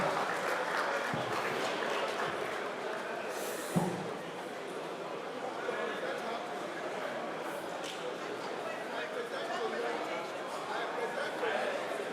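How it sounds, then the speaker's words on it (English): A crowd applauds at a reception ceremony for a newly installed woman mayor, with steady, moderately loud clapping in a large room and voices chattering over it. "A big round of applause."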